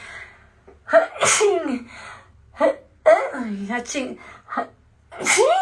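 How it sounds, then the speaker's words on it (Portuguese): A person lets out a loud, close sneeze amid speech, with breathy vocal sounds before and after. "É só um espirro, tá bom?"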